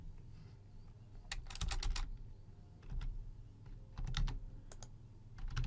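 Close, crisp computer keyboard typing while random payment details are entered at an online checkout, coming in short rapid bursts of keys separated by brief pauses over a faint room hum.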